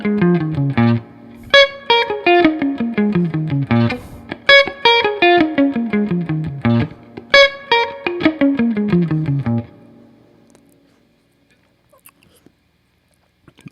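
Distorted electric guitar runs a pentatonic scale in quick, even 16th notes, descending through repeated phrases for about ten seconds, loud and dry, then stops into near silence.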